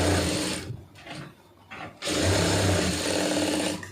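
A sewing machine runs fast, stitching a sleeve lining, then pauses for about a second before starting again with a steady close whir.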